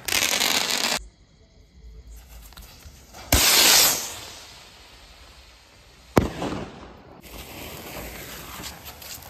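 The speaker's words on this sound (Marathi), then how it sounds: "संध्याकाळी इथे हे जे दिवाळीचे फटाके उरलेले होते ते आम्ही उडवले" Leftover Diwali firecrackers go off in the evening: a loud crackling burst, then a sharp bang with a fizzing tail and another crack, with quieter gaps between the explosions.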